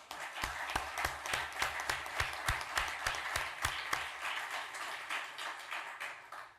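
Applause from the audience at a food and beverage association's annual convention, a steady patter of many hands clapping with sharp individual claps standing out, moderately loud and fading toward the end.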